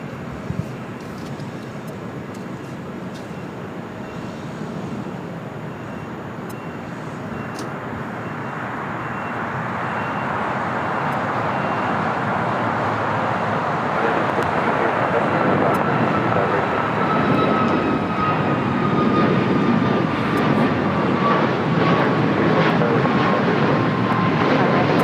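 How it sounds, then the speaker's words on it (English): A United Airlines Boeing 737 MAX 8 jet taking off at LAX, starting as a distant rumble and swelling into a louder, sustained roar with sweeping engine whine. Faint voices can be heard early on. "United Airlines 1395 taking off to Austin on a MAX 8"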